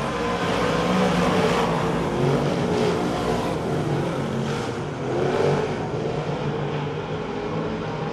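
358 modified race cars roar around the dirt oval at Ohsweken Speedway, a continuous loud engine drone with rising and fading passes, heard without talk.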